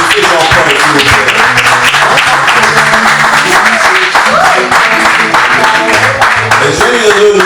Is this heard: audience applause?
yes